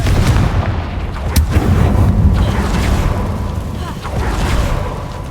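Confringo spell explosion in the video game Hogwarts Legacy: a loud, deep booming blast with a rumbling tail, followed by lingering low rumble and a voice speaking over it.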